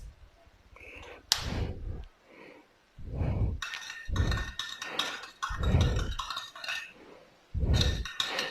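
A spoon stirs aloe vera juice sweetened with date syrup in a glass, giving quiet bursts of clinking and scraping separated by short pauses, with no talking.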